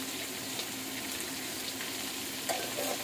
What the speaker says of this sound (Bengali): এখন এটা দিয়ে ভাজতে হবে, ভালো করে ভাজতে হবে।